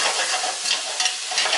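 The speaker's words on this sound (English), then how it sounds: "Give that a quick stir." Diced tomato is stirred into stewed saltfish in a pot, a soft, steady close sizzle and scrape lasting a moment, with no talking.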